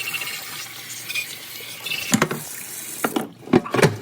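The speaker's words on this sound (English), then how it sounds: "you just rinse it out real good with as hot as you can get water" Hot tap water runs and splashes over an engine part being rinsed after oven cleaner, with scattered clattering knocks and bursts of spray, fairly close.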